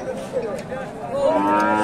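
A Friesian cross heifer moos at the Hasokhali cattle market, giving one drawn-out, fairly close low call that rises slightly in pitch, with faint market bustle behind it.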